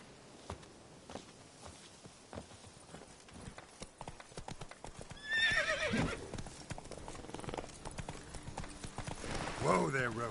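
Roach, the horse from The Witcher, trots with steady clip-clop hoofbeats and gives a loud, close whinny around the middle of the stretch and another near the end, while someone talks over the sounds.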